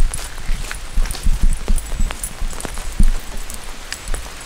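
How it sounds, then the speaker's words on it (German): Steady rain falls outdoors, a dense patter of drops hitting surfaces close by, with irregular louder taps and thuds mixed in and no one speaking. "Und es regnet."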